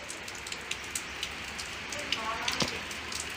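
Steady rain falls on an open farm field planted with winter vegetables such as long eggplant, cabbage and radish greens, a continuous soft patter with scattered close drops.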